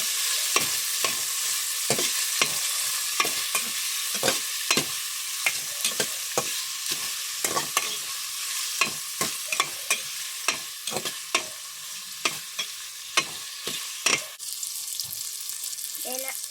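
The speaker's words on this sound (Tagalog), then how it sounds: "Tapos halo-haloin lang natin ito." Steady sizzling of shrimp and sinigang ingredients frying in a hot pan, with repeated sharp scrapes and clacks of a utensil stirring in an irregular rhythm throughout.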